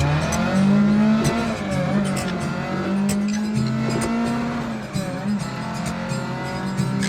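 A loud, raspy car engine with a cracked hole in its side rumbles up close, idling roughly and revving in uneven surges, harsh and blaring.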